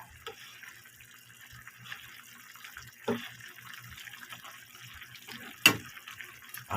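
Filipino chicken stew, ginisang manok, bubbles in a pot with soft, quiet liquid gurgling and a few brief pops and clinks over a low steady background.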